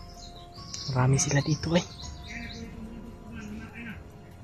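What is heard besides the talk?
birds chirping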